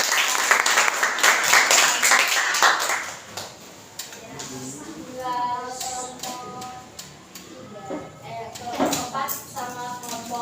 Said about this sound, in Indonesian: Berikan tepuk tangan dulu untuk